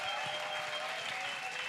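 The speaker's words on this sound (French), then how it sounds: "Clap offering to Jesus Christ." A church congregation at a salvation and healing crusade in Bafoussam claps hands together as an offering, a brief burst of dense, steady applause filling the room.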